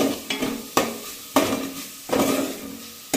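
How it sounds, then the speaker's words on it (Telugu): A spoon stirs rasam made with Aachi rasam powder in a pot, giving four distinct scraping strokes in a steady rhythm over a faint sizzle, close and fairly loud, with no talking. "ఇది కూడా ఒకసారి బాగా మిక్స్ చేసేయాలి."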